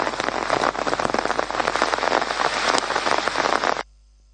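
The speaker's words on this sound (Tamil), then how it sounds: "பண்டாரவளை பகுதியில் தொடரும் மழையினால் பண்டாரவளை ஆற்றில் வெள்ளப்பெருக்கு ஏற்பட்டமை எமது கேமராவில்" Heavy rain pours in Bandarawela, where the river has flooded, a dense, continuous close hiss of drops on surfaces for a few seconds before cutting off abruptly.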